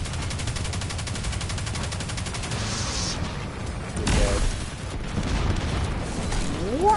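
A gun in Destiny 2 fires in a rapid, evenly spaced automatic stream for a few seconds. A louder burst and a mechanical whine follow, all dense and close.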